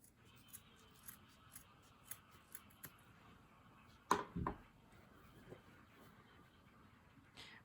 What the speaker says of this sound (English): Now I'm gonna cut his scarf because we wanna see the pocket.